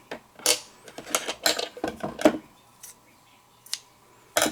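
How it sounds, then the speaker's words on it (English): Scissors snip through a length of white twine while making a pop-up card, a quick series of crisp, close cuts with short pauses between them and no voices. "I'm just going to cut a piece down."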